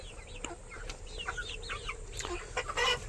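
Chickens on a poultry farm cluck and chatter in short repeated calls, with occasional louder squawks at close range over a steady farmyard background.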